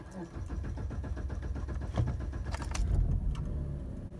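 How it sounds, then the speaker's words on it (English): A 2011-2014 Chrysler 200 engine cranks and then catches and starts, a steady rumbling turnover close by, with keys jangling at the ignition. "So you're gonna pump the gas pedal 5 times and then start the engine."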